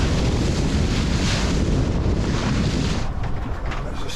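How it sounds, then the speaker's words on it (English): Strong wind, gusting to about 28 knots, roars across the microphone aboard a sailboat at sea, a loud, continuous broadband rush that eases slightly toward the end. "the wind is peaking 28 knots now"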